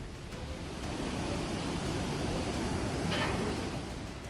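Floodwater after a cloudburst in Doda rushes in a steady, dense roar, a continuous broadband wash of turbulent water with no voices over it.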